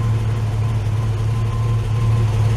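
A Ford Capri MK1, sitting unused for eight years, idles with a steady low burble and a slightly tappety edge, continuous and close without any talking.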